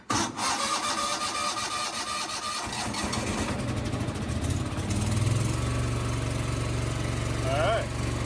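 A 1997 Simplicity Sovereign snowblower engine catches and settles into a steady, loud, close-up running drone, holding its low rumble through the rest of the stretch with a brief pitch waver near the end.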